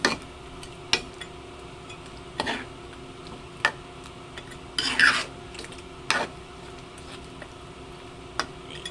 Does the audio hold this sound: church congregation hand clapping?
no